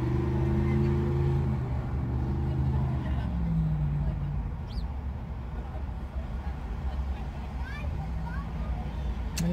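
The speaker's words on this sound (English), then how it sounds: "Listen to the traffic." City traffic passes steadily on a street, a low continuous rumble of cars with the faint murmur of people nearby and a voice talking over it.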